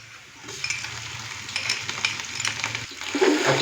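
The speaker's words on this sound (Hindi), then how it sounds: "अच्छे से मिक्स करेंगे और हल्का सा इसको फ्राई करेंगे।" Ginger garlic paste being stirred into lightly browned onions in a pan, with a steady frying sizzle building over a few seconds and soft scraping strokes, no voices.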